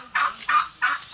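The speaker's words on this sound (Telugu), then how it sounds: "లోపల కోడి పిల్లలు ఉన్నాయంట" Chickens with their chicks kept in a village shed, giving three loud, close squawking calls in quick succession with short gaps between them.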